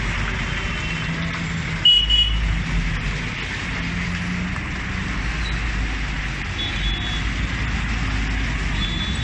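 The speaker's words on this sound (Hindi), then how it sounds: "अब आप देख सकते हो इस मेट्रो के कारण ये जो गाड़ियां जाती है" Cars and trucks rolling past on a road beside metro construction work, a steady dense rumble of engines and tyres at moderate distance with a brief louder thump, no voices.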